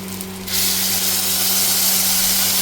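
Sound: spice paste sizzling in hot oil

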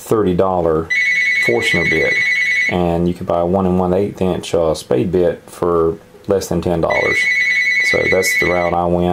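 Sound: telephone ringing

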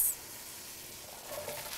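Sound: vegetables sizzling in oil in a soup pot

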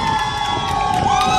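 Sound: carnival crowd applauding and cheering

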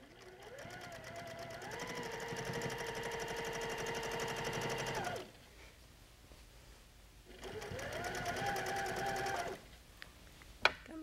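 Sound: sewing machine quilting along the seams of a quilt

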